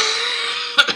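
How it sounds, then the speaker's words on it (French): A short cough comes in two quick bursts, close and fairly loud, right after a steady tone fades. "j'avais besoin de tousser"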